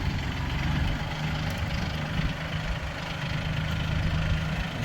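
A farm tractor engine idles steadily at close range outdoors at a sunflower dove field, a low continuous rumble with no talking.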